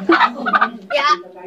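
A chicken clucks close by in a few quick, throaty bursts with a squawky edge, loud and clear over a short stretch.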